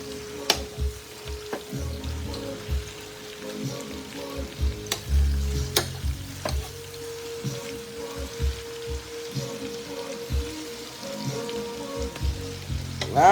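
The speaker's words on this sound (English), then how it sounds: "We got our grease going over here for the fish." Fish frying in hot grease, a steady bubbling sizzle close up with occasional clinks and stirring knocks throughout.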